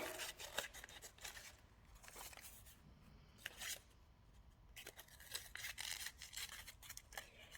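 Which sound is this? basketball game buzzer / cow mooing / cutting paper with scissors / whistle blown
cutting paper with scissors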